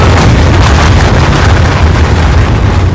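A nuclear explosion sound effect: a loud, continuous, rumbling roar that fills the whole clip with dense low booming and hissing blast noise, with no pauses.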